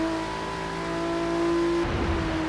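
Honda NSX engine revving in Forza Horizon 3, a steady loud game-engine drone with a sharp shift in tone near the end, no voices.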